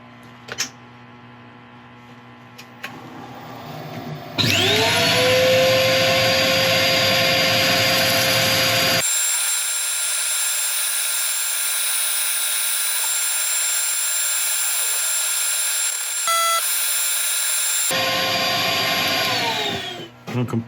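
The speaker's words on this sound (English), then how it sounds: "I'm going to start sanding. I'll let you watch the start" A power sander works on a wooden woodturning piece, probably on a lathe, with a loud steady whine and hum that starts abruptly, drops to a thinner high tone midway and then returns, with no talking.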